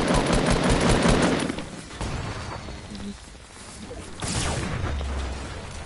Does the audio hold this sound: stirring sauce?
no